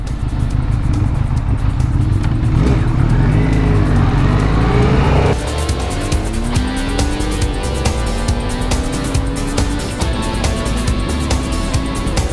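Benelli Leoncino 500 motorcycle revs loud and close through its exhaust, engine pitch sweeping up and down across repeated throttle blips with a steady rumble underneath.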